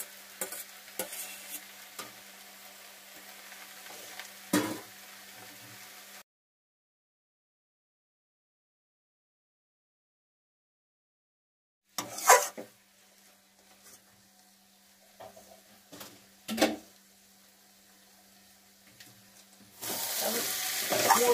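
Shrimp frying with banana flower and chili powder in a pan, a soft steady sizzle broken by sharp scraping stirs, then a long gap of silence before more clattering stirs and a louder sizzle rising at the end.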